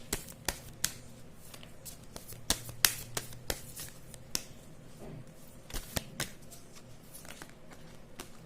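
Tarot cards being shuffled by hand, a series of sharp, close riffling snaps and slaps at an irregular rhythm over a quiet room background, with no talking.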